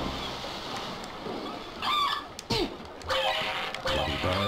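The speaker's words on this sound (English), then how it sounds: "Bloody birds. Yeah, bloody birds indeed." Seagulls squawk and honk in the video game Captain Claw, several loud harsh calls in bursts over a steady noisy game background.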